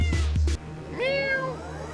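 A single clear cat meow, drawn out and rising then falling, following a brief burst of other sound; no talking.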